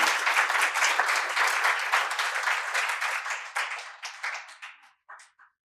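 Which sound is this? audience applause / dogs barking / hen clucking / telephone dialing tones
audience applause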